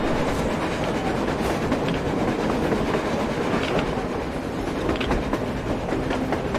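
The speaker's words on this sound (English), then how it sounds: "A damn train on the surface!" A train rolls along rails on the surface in the video game Metro Exodus, a loud continuous rumble with rhythmic clickety-clack of wheels over joints and occasional metallic squeals.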